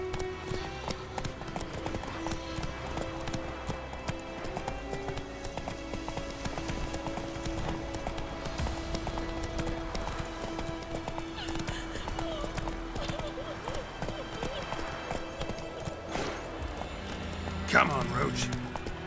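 Roach the horse gallops through The Witcher 3, hooves clip-clopping steadily and continuously over background music, with a whinny near the end and a voice talking to the horse over the hoofbeats.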